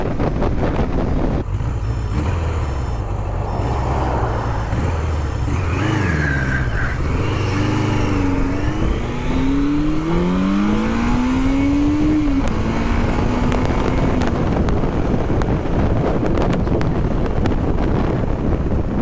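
A vintage motorcycle engine, from a 1976 Kawasaki KZ900, 1974 H2B 750 or 1974 G5 100, revs and climbs through rising pitch, loud and close, with steady wind rush over the microphone throughout.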